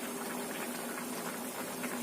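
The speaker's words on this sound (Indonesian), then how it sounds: "Kita rebus sampai bumbu menyerap." Milkfish simmering in a yellow spiced broth in a pot on the stove, a steady close bubbling and hissing boil that runs unbroken for the whole stretch with no talk.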